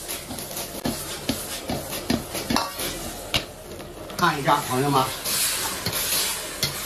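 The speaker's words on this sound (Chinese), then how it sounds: "边翻勺边勾芡" A wok of stir-fried cauliflower with minced pork is tossed and clanged with a ladle while the sauce is thickened, giving repeated metallic scrapes and knocks with sizzling. Someone talks over the cooking.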